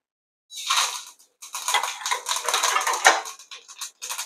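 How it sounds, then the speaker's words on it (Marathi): A spoonful of mustard seeds hits very hot oil in a pan with the gas off, giving bursts of crackling, spattering sizzle close by with short gaps between them. "1 चमचा आपल्याला याच्यामध्ये राई घालायची आहे."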